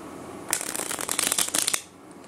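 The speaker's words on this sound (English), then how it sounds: "so just shuffle the cards." An older deck of playing cards is riffle shuffled in one quick burst of dense, crisp flutters lasting just over a second, close and clear with no talking.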